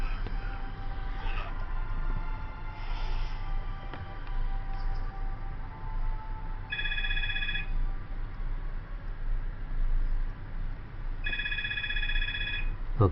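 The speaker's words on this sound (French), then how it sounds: "Le téléphone il sonne, mais bon, c'est pas grave." A telephone rings in short electronic bursts, two separate rings about four seconds apart, clear over steady background noise from a computer game, with no talking during the rings.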